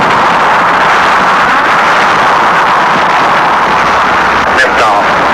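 A rocket engine ignites for a manned launch with a loud, continuous broadband roar that fills the whole stretch without letting up.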